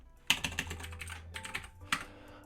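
Keys clatter on a computer keyboard in quick bursts of typing during a web development coding session, close and clear with short pauses between clusters and no talking.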